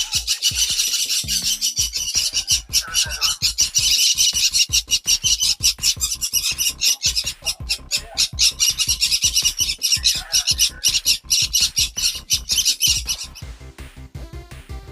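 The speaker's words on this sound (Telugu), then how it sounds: "చిలక టైప్లో ఉంది, లవ్ బర్డ్స్ ఇవి." Love birds and jungle fowl in an aviary at Himayat Sagar Eco Park, Hyderabad, give rapid, busy chirping and squawking with dense scratchy clicks, loud and close and continuing almost throughout before tapering off at the end.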